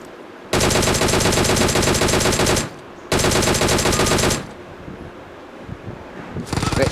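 Two long bursts of rapid, loud automatic Uzi fire in a battle royale video game, each lasting about two seconds with a brief gap between them, followed by quieter background noise and another burst starting at the end.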